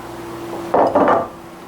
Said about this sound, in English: Take another bowl, mix our dry ingredients, crushed graham crackers